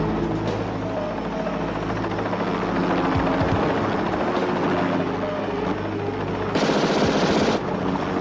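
A helicopter drones loudly in a film action scene while rapid bursts of machine-gun fire crackle over it, with a sharp louder burst near the end.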